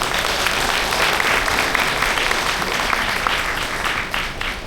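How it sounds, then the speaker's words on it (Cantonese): An audience at an auto battery and tyre trade association's inauguration ceremony applauds in dense, continuous clapping that stays loud and even throughout. "我哋俾啲掌聲佢哋好唔好啊？"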